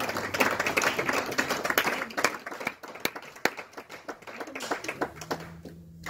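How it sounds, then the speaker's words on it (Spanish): A church congregation applauds together, a dense run of close, crisp handclaps for about five seconds that thins out toward the end. "¿Cuántos dan un aplauso al Señor?"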